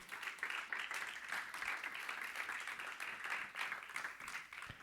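A church congregation claps together in steady, dense applause during a sermon on baptism, the sound continuous and fairly uniform across the whole stretch with no voices standing out.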